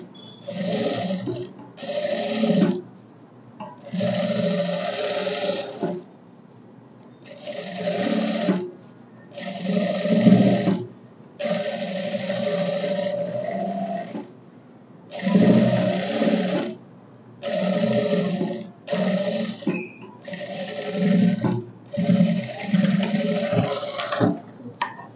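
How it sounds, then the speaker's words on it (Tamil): A sewing machine stitches a blouse in a long series of short and medium runs, its whirring motor starting and stopping repeatedly with brief pauses between bursts, fairly close and steady. "மிஷினோட தையலே வந்து மேல் தையலுக்கும் கீழ் தையலுக்கும் ஃபினிஷிங் நல்லாயிருக்கும்"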